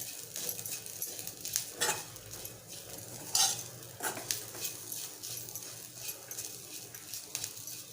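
Grated coconut dry-roasting in a pan for a Malvani-style sprouted white peas curry: soft, intermittent scraping and stirring of a spatula against the pan, close and fairly quiet, with occasional sharper clinks.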